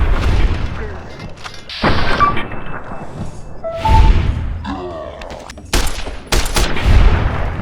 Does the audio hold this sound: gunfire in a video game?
yes